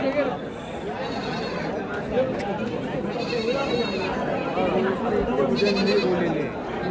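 Large sheep bleat repeatedly in a noisy pen at a big goat, sheep and poultry market in Maharashtra, their calls overlapping with the murmur of a crowd talking nearby.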